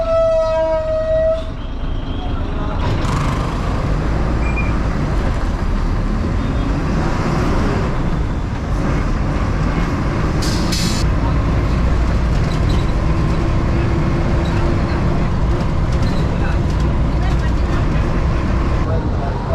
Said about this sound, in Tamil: இப்போ பஸ்ஸு இது பிரிட்ஜுக்கு கீழே ரைட் ஹேண்ட் சைடு கட் பண்ணி தாங்க போயிட்டுருக்கு